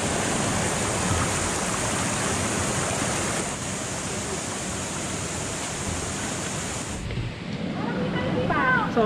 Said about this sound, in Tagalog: So ito yung unang falls naming nadaanan.